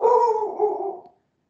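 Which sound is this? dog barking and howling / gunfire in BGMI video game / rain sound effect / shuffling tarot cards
dog barking and howling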